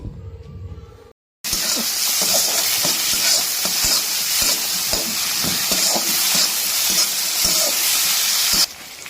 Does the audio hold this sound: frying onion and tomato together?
yes